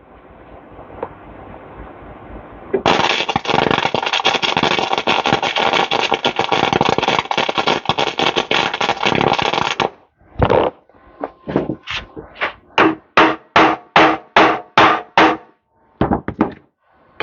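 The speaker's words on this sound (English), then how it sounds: "we're gonna go ahead and weld that again some" Welding a crack on the frame of a Honda Odyssey FL250, a long steady crackling buzz of the arc for about seven seconds, then a run of short regular bursts as the weld is laid in pulses, loud and close.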